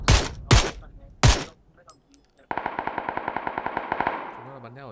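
Gunfire in the battle royale game PUBG: three loud, separate gunshots, then after a short gap a rapid automatic burst of about fifteen evenly spaced shots, with no one speaking.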